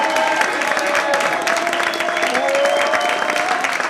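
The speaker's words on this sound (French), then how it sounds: "je voudrais qu'on applaudisse très fort le Café Culturel" Audience applause at a slam poetry venue, the Café Culturel: loud, continuous clapping from a packed room that fills the whole moment, with some crowd murmur underneath.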